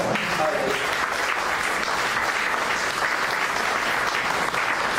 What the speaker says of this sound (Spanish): Den una ofrenda de palmas